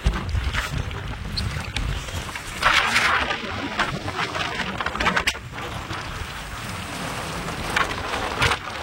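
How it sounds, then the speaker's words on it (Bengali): Continuous roaring wind and rushing water of a rough sea in strong wind wash over everything, with occasional splashes and knocks, loud and unbroken throughout. "সমুদ্র খুবই উত্তাল। 100 বাতাস মানে অনেকটা ব্যাপার।"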